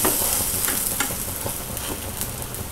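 Garlic cheese bread sticks toast in a pan on a medium-flame stove, giving a steady close sizzle with a few light scraping clicks as they are turned.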